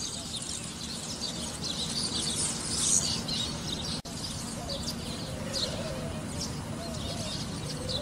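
Sparrows and other birds chirp outdoors in the morning, a continuous chorus of tweets at moderate distance with a brief dropout midway.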